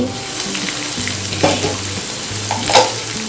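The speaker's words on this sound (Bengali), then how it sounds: "এখন একটু ভালো করে নেড়ে চেড়ে দিব" Beef tripe sizzles in oil in a pan after long covered cooking, stirred with short scraping strokes and a couple of sharper knocks over a constant close frying hiss.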